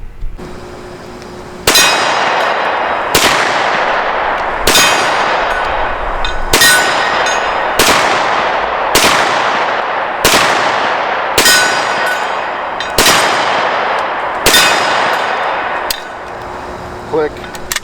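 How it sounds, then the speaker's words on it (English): An SWD M-11 semi-automatic pistol fired in a steady string of about eleven loud, sharp shots with ringing decay, roughly one every second and a half, followed by a faint click at the end. "Let's see how it shoots as a semi-automatic pistol."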